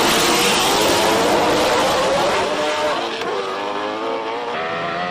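Robbie Welk's race car at the Simola Hillclimb, its engine note loud and sustained, climbing and shifting through revs with harmonic whine, then easing slightly toward the end.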